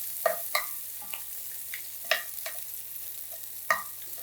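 Black pepper potatoes frying in a cast iron pan, a low steady sizzle punctuated by several sharp scrapes and taps as a utensil turns them.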